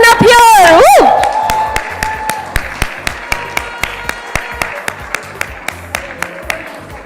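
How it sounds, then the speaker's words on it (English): Audience applause at the Impact 50 Most Influential Women 2022 awards ceremony, opening with a loud voiced whoop, then settling into a steady, evenly spaced clapping rhythm that carries on for several seconds. "can we have a big round of applause for these women up here?"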